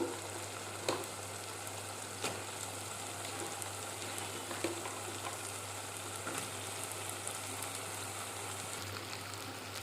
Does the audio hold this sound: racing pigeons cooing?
no